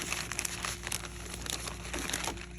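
Paper warranty card and stickers for Ford Crown Victoria parts are handled and crinkled close up, giving soft, irregular rustling and crackling over a few seconds with no talking.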